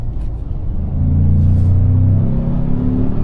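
A Ford Maverick LOBO sport truck under full throttle, a loud low engine rumble that builds and holds with rising harmonic tones as it accelerates, no talking.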